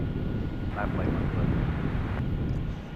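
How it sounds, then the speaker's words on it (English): A Southwest airliner departs runway 13 left at Dallas Love Field, its engines a steady broad roar with wind buffeting the microphone, while faint talk runs underneath throughout. "Southwest is rolling down runway 13 left."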